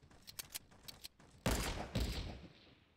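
Gunfire in the video game Fortnite, with a quick run of sharp shots followed by two heavy, loud bursts of blasting that fade out, and no talking.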